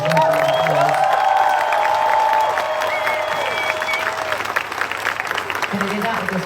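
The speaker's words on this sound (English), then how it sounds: "Give my incredible band a round of applause." A large stadium concert crowd in Munich applauds and cheers for the band, a dense wash of clapping and whoops that holds strong, then thins slightly as a voice talks over it.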